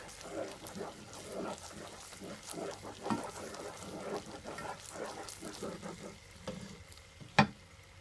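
Caramel stirred in a pan as it changes color, with soft scraping and faint sizzling in uneven strokes, quiet and close, with one sharp clink near the end.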